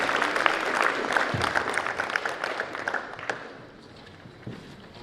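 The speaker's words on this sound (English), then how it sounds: "Let's give these kids a round of applause." An audience applauds students at a school academic awards ceremony, with steady clapping from the crowd that thins and fades away over the last couple of seconds.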